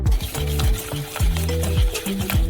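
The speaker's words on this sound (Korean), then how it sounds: "설탕을 넣고 섞어주세요." A spoon stirs melon juice and sugar in a pot with steady, repeated scraping strokes, close and clear, with no talking.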